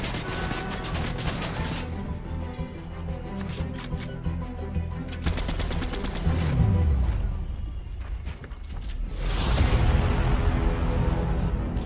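Gunfire in Fortnite Chapter 3 gameplay comes as repeated sharp bursts and rapid volleys, some clustered and some isolated, loud over background game sounds.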